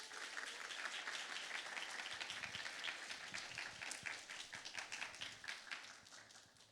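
An audience at a church young-adults worship service claps to welcome a guest speaker, a lively burst of many hands that stays dense and close, then thins into scattered claps and fades near the end.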